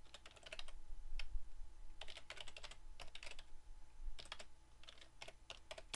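Quiet, quick bursts of keystrokes on a computer keyboard as an account name is typed, clusters of light clicks separated by short pauses.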